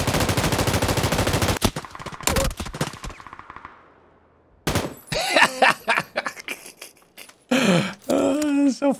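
M249 light machine gun spray fire in PUBG, long rapid bursts of gunshots in quick succession, loud and close, broken by pauses and separate shorter volleys.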